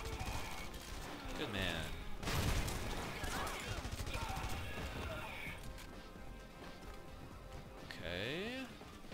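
Gunfire and destruction in the video game Red Faction: Guerrilla, a heavy crash followed by scattered shots and rumbling debris, with a brief spoken remark in the mix.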